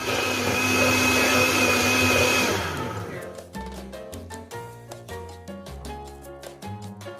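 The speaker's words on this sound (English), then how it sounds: "so with the coconut milk and everything, I'm gonna blend it up" A blender roars steadily through carrot punch with coconut milk for a Caribbean recipe, then winds down after about three seconds into rhythmic music.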